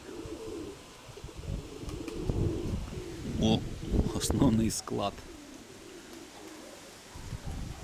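Domestic pigeons coo in a loft in low, repeated bursts, with a few sharper wing or call sounds in the middle, while someone talks nearby over the birds.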